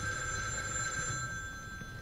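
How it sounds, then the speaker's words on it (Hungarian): A telephone rings inside a house in the horror video game The Evil Within 2, a steady electronic ringing tone sustained through the moment at moderate volume, with faint low ambient rumble beneath. "Hol szól a telefon?"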